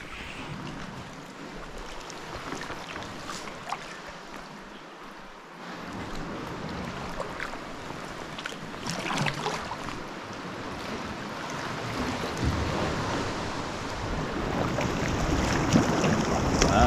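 Choppy sea swell rolls and splashes at the northern end of an island, a continuous washing surge that grows fuller and louder toward the end, with wind buffeting the microphone.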